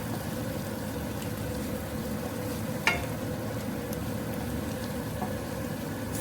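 Paneer being stirred into palak paneer in a pan: a steady, soft sizzle and gentle scraping throughout, with one brief clink near the middle and no talking.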